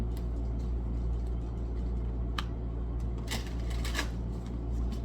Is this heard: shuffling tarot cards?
yes